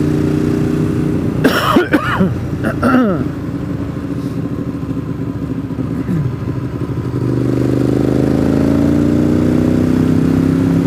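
A Ducati 848 motorcycle engine drones steadily under way, its loud low rumble rising in pitch near the end, with a few coughs and clatters early on.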